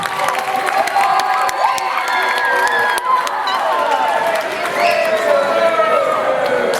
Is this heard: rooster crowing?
no